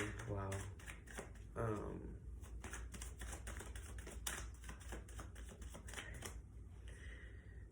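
Tarot cards shuffled and drawn by hand, a run of quick crisp riffling and flicking bursts at close range, with a voice briefly exclaiming over the cards.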